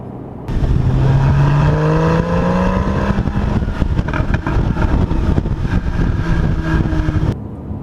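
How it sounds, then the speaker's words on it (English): A 2015 Porsche 911 Carrera 4 GTS driving at low speed, its engine droning steadily with rising and falling pitch as it shifts through gears, close and continuous with no talk. "today we're in the Porsche 911 Carrera 4 GTS"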